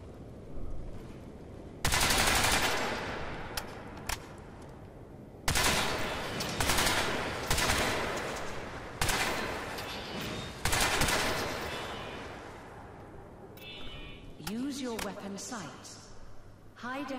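Weapon fire in the Crysis 3 video game during nanosuit weapons training, several loud bursts of automatic gunfire with booming decays, spread across the clip, with a voice speaking near the end.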